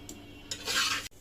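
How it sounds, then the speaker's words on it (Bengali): Lentils are dry-fried and stirred in a pan for khichuri, with a few brief scraping strokes and a short louder rasp of sizzling and stirring, then a clack. "এখন ডালটা ভাজা হচ্ছে আরও কিছুক্ষণ ভাজা হবে"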